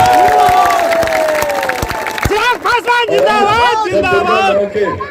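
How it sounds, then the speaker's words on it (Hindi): A big outdoor crowd at a Bihar election rally in Kadwa cheers and claps, with loud shouts, whoops and chanting voices rising over a bed of clapping and general hubbub, all close and energetic. "जोरदार तालियों से करना चाहिए।"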